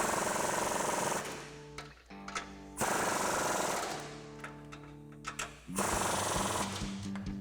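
A power impact tool or ratchet driving a 14mm socket onto two suspension nuts on a 2019-2024 Chevrolet Silverado 1500 lift install, in loud, close bursts of rapid hammering with short pauses between.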